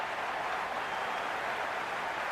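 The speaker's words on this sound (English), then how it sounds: "There's a buzz, a real buzz coming from the stands." A cricket stadium crowd at a T20 World Cup match, Australia against South Africa, keeps up a steady, dense roar of buzzing and cheering from the stands, loud and unbroken throughout with no distinct voices.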